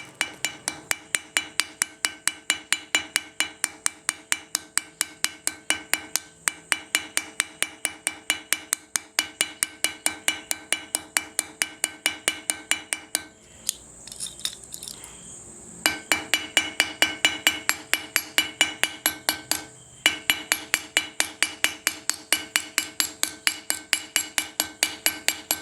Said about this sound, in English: A ball peen is used to flare out either end of the rivet